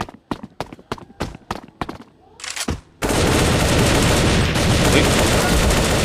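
A quick series of sharp, loud gunshots in the video game Bullet Angle, followed by a dense, sustained roar of continuous fire and blasts.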